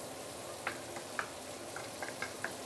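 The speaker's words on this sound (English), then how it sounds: "I'm going to cook the prawn to almost fully cooked, which will take me about 2 minutes" Prawns sauté in a hot pan for a stir-fry, a soft steady sizzle broken by a handful of small crackles and pops.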